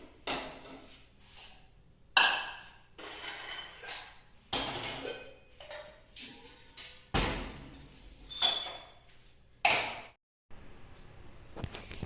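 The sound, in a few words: gathering dishes and utensils in the kitchen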